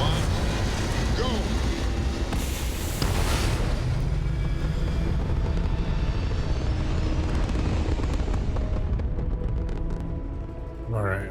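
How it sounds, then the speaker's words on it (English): A spaceship lifts off in Starfield with a continuous heavy engine roar and deep rumble that sweeps upward, stays loud for about ten seconds, then fades near the end, with voices over it. "Ready for takeoff in 3, 2,"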